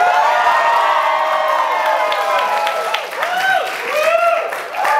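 A wedding reception crowd cheering and clapping together on a count of three, a loud sustained roar of voices and applause with whoops rising near the end.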